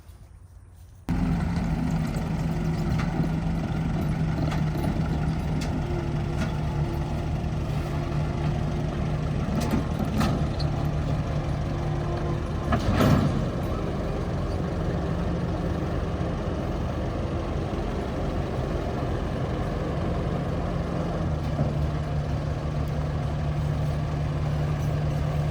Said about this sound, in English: All right, let's get the skid steer on there.